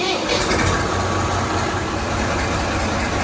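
A Massey Ferguson 135 tractor engine runs steadily nearby, a loud, continuous diesel rumble with no pauses or talk over it.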